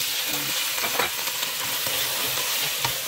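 Chicken frying in a pan with garlic and onion: a loud, steady, close sizzle with crackling spits throughout.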